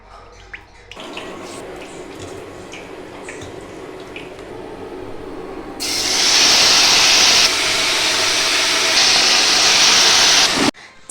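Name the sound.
chicken frying in oil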